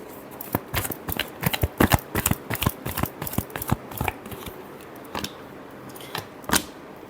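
A deck of tarot cards is shuffled by hand in a series of crisp, snapping riffles and taps, irregular bursts that are close and clear, thinning out toward the end with a few isolated flicks.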